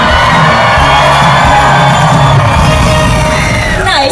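A studio audience at a Universal Studios animal actors show cheers and whoops for a dog, a loud continuous crowd roar with shouts and yells running throughout.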